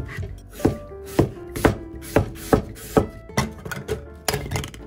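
A knife knocks steadily on a cutting board as seasoned greens with ground sesame and rock salt are chopped and mixed, making about ten crisp, close, evenly spaced thuds in five seconds with no talking.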